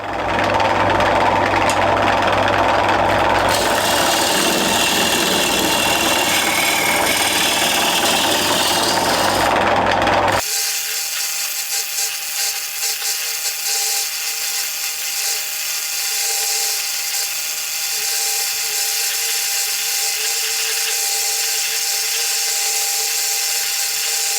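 A wood lathe spins a bowl blank while a carbide cutter and a bowl gouge cut into it, giving a loud, steady mechanical whir with a rougher cutting texture for the first ten seconds, then a smoother, thinner continuous hum.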